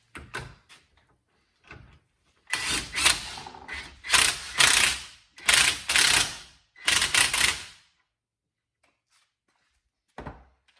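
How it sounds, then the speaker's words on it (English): A car strut top is fitted back onto a compressed suspension coil spring, heard as close clusters of sharp metallic clanks and ratcheting clicks in bursts separated by short quiet gaps. "Now that the spring's compressed, I'm going to put the strut top back on."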